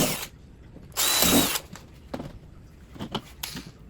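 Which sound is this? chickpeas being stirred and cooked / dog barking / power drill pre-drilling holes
power drill pre-drilling holes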